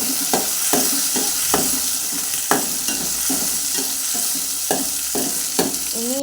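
Garlic and curry leaves sauté in a pan for a country chicken curry, a steady sizzle broken by regular spatula scrapes about every half second, close and clear.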